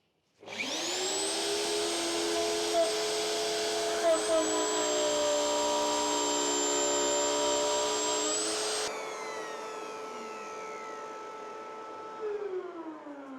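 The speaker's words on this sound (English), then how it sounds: "I'm able to set that on the router first, and then I do a test cut" Woodworking router spinning up and cutting a test dado with a dado sled, a loud high whine that rises quickly, holds steady for several seconds, then winds down with a fading tail.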